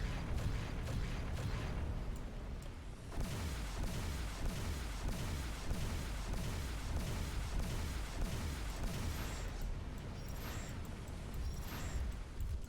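Rapid weapon fire hitting a player's spaceship in X Rebirth, a continuous dense barrage of booming impacts and thuds, steady and heavy throughout.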